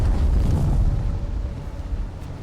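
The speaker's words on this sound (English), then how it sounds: "Another spice explosion." A deep, rumbling spice blast erupts in the desert of Dune: Awakening, a loud, sustained roar that slowly fades over a couple of seconds with no voices over it.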